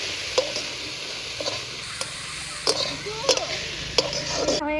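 Spinach greens tossed into a pan of lightly fried potatoes and stirred, with a steady sizzle under sharp scraping clatters of a utensil against the pan at irregular intervals.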